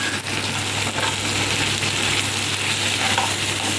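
Potatoes fry in a pan with turmeric, coriander powder, garam masala and asafoetida, giving a dense, steady sizzle that holds loud and even for the whole stretch, with a low hum underneath.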